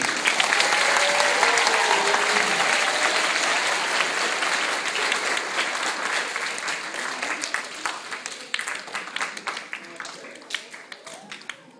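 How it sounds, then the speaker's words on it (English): A school spelling bee audience applauds the judge with a dense, sustained round of clapping that gradually thins into scattered individual claps toward the end. "Can we have a round of applause for Mrs. Sandler?"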